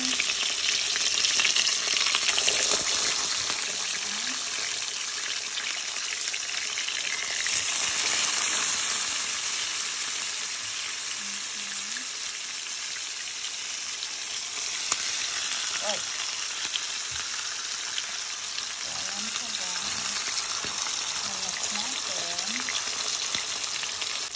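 Slices of luncheon meat frying in oil in a pan, giving a loud, continuous hissing sizzle with occasional faint clinks and scrapes.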